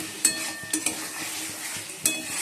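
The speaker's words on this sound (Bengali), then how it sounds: "যেগুলো আলুগুলো দিয়ে দিয়েছি, ভালো করে কষিয়ে নিচ্ছি।" Potatoes being stir-fried with spices in a pan give off a soft sizzle, punctuated by a few sharp clinks and scrapes of a spatula against the pan.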